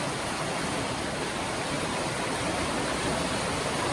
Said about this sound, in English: that little waterfall is where Thunder River's falling into Tapeats Creek